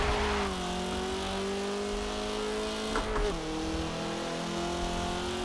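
A race car engine in Forza Motorsport 7 holds a steady, droning rev that shifts pitch briefly midway before settling into a sustained hum, with no voices.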